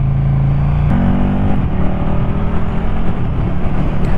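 A KTM 1290 Super Duke GT motorcycle revs up through the gears with quick, smooth quick-shifter changes, the pitch dropping briefly at each change, loud and close.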